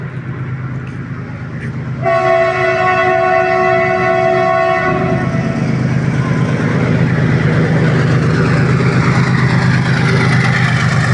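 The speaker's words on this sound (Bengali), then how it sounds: "একটা ট্রেনটা চোখ ট্রেন যায় দেখো" A loud train horn blows for a few seconds, then a heavy rumbling roar as a train rolls past close by.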